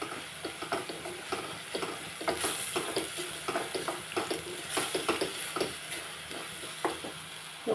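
Spices, including coriander and cumin powder, are stirred in a cooking pan, with a spoon scraping in a steady, busy rhythm over a soft sizzle, close and with no talk.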